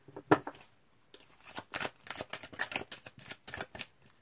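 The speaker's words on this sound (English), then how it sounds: "Give it 2 more shuffles." Tarot cards being shuffled by hand in a series of quick riffles and taps, close and crisp, with short pauses between bursts and no talking.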